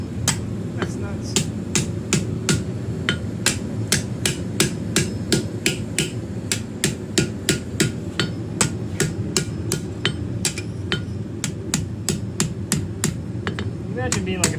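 Hammer forging a steel spear socket on an anvil: sharp metallic strikes ring out in a fast, steady rhythm, close and loud, over a low hum of the forge.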